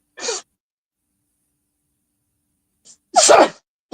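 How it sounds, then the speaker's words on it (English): A person sneezes twice at close range, first a short sneeze, then a pause and a sharp, louder one, alone in a quiet room. "You got the sneezes."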